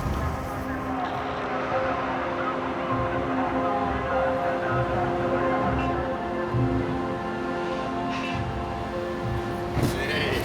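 A passenger train travelling on a journey out of Egypt, heard as a steady, continuous rumble with tonal hum and rattle throughout, with a brief louder knock near the end.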